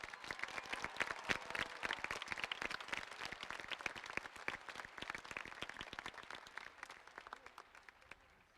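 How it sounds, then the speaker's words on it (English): An audience at a middle school graduation ceremony claps for military veterans. The dense applause is distant and faint, holds steady for several seconds, then gradually thins out. "offer you a round of applause"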